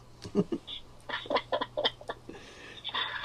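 Birds chirping and clucking in short bursts, some calls low and fowl-like, others higher and thin, fairly close with a faint steady hum underneath.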